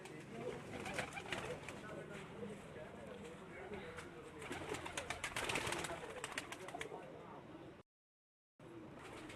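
Champion pigeons from a Lahore rooftop loft coo and flutter amid busy open-air background noise, with a brief silent gap near the end; a voice is faintly present too.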